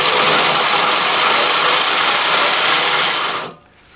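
A reel mower spins backwards while being backlapped with grinding paste, a loud steady whirring drone that cuts out abruptly near the end, leaving quiet.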